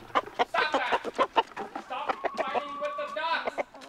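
A rooster squabbling with ducks in a farmyard, giving a close, busy run of agitated clucks and squawks in quick irregular bursts, loud and unbroken for several seconds.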